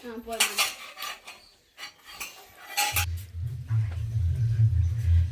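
Challa punugulu batter with cumin and onion being mixed in a bowl, with clinking utensil and dish sounds early on, followed by a steady low rumbling stir that carries on to the end.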